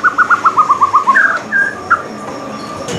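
A white-rumped shama (murai batu) songbird sings close and loud, opening with a quick run of about ten evenly spaced repeated notes, then a few separate whistled phrases before it goes quiet.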